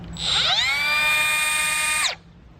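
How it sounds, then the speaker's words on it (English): A Milwaukee M12 Fuel cordless brushless cutoff tool spins up to full speed, holds a steady high-pitched whine for about two seconds, then winds down, heard alone and close. "portable cordless brushless cutoff tool"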